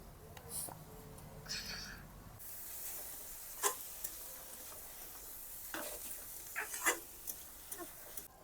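Shredded cabbage and carrot fry softly in a pan for veg momo filling, a faint sizzle with occasional light clicks and stirring taps.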